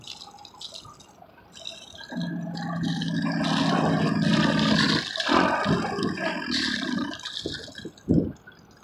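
A boat engine on sea trials near a marina cove, revved while its cooling water pumps out. A steady low drone swells under gushing, splashing water, with intermittent drips and a loud splash near the end.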